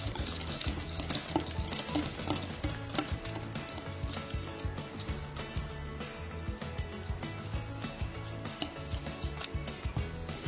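Banana bread batter with flour and a packet of yeast is stirred in a bowl, giving continuous, close, rhythmic scraping and sloshing strokes at moderate volume with no talking.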